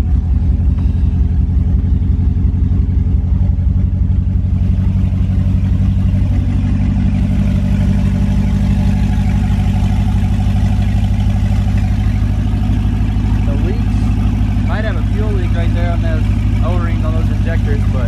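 A V8 LSx engine swapped into an all-wheel-drive Audi idles steadily and close by, with a deep, even low rumble and a slight rev change near the end. People talk over it.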